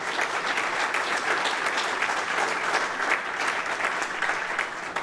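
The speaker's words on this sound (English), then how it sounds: "Let's give them a big round of applause" A crowd at a city event for the Elm Street redevelopment and preservation housing project claps in sustained, full applause, steady and enthusiastic throughout.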